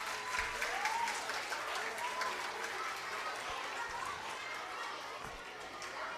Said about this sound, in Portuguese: pedir mais uma vez, então, uma salva de palmas para os vencedores, para os palestrantes